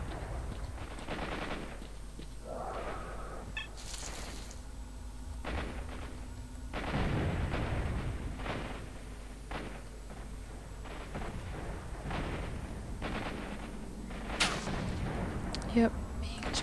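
Gunfire aimed at the player in S.T.A.L.K.E.R. - Shadow of Chernobyl, a series of booming shots and thuds scattered irregularly over a noisy background, some near and heavy, others more distant.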